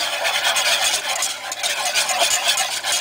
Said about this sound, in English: You want to take a whisk and whisk that.